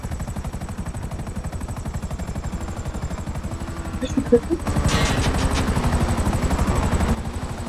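A helicopter in a video game with a loud, steady rotor thumping throughout, joined midway by a brief burst of gunfire and a rising roar.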